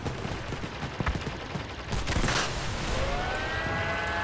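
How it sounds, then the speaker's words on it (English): Gunfire in the Crossout vehicle combat video game, scattered distant shots followed by a louder sustained fusillade, with whining mechanical tones underneath. "I do hear someone shooting."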